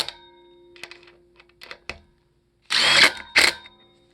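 A power drill runs screws into an arcade stool, heard as several short close whirring bursts with gaps between them, ending in two louder, longer drives.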